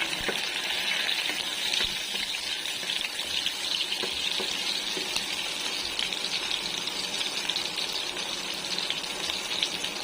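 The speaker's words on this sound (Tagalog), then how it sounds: "Lagay na natin yung luya. Sunod natin yung bawang." Ginger and garlic fry in hot oil for squid adobo, giving a steady, close sizzle that stays even throughout, with faint clicks over it.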